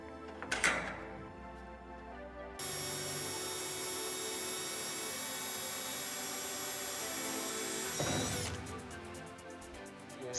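A power drill with a steel bit bores through metal while a stainless steel lock is fitted to shipping container doors. A sustained, steady whine runs for about six seconds between brief clattering handling sounds.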